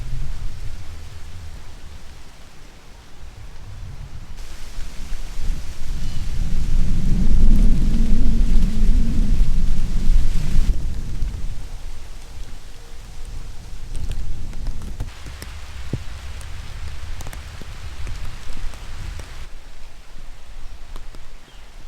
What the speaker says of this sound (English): Still a little bit of a sprinkle every now and then